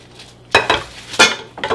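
A spoon stirs lemon and pepper into a chicken and vegetable sauté, making a few sharp scrapes and clinks against the pan over a faint background. They come in quick separate bursts with no talk.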